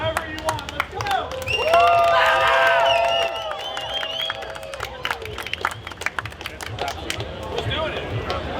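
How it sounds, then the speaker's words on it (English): A crowd at a fish and reptile show claps and cheers loudly, with excited shouting and whoops swelling early and then dropping into scattered claps and chatter. "Let's clap and get real loud, however you want."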